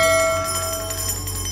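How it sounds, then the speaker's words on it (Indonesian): A small bell rung in a home, a bright sustained metallic ring that decays slowly after a strike near the start, fairly close with a faint repeated shimmer and no talking. "kok bunyiin lonceng sih, Pi?"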